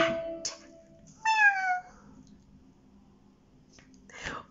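At a mixed arts workshop, people imitate cats with voiced meows, including a drawn-out, falling meow in the middle and shorter meows at the start and end. Some quiet whispery sounds come between them.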